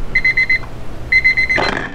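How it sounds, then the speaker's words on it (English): Two bursts of a beeping timer alarm, each a quick run of four or five sharp electronic beeps, separated by a short pause, the second cut off by a clatter. "so that's the timer"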